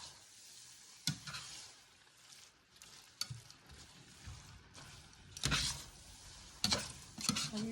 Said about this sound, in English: All you're doing is just stirring